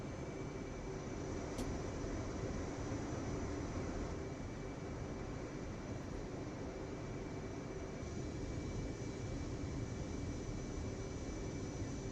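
Jet aircraft engine in the DCS flight simulator game, a constant loud broadband roar with a steady high whine, unchanging throughout.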